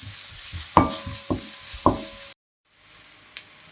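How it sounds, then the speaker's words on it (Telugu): Chili powder and ginger garlic paste frying in a pan for a mushroom curry, a few sharp spoon knocks and scrapes over a soft sizzle, then a brief silence and a final light tap. "వేసుకొని దీన్ని 2 నిమిషాల పాటు బాగా వేపుకుందాం."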